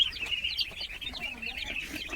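Young ducklings mingle with hens on a duck farm, giving rapid, high, repeated peeps and chirps with occasional low clucks, all fairly faint.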